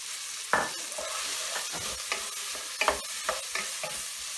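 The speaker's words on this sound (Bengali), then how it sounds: "এখন আমি এর ভিতরে মাশরুমগুলো দিয়ে দিব।" Prawns and mushrooms sizzle in a hot pan for noodles while a utensil stirs them, giving a steady frying hiss broken by several distinct scraping strokes.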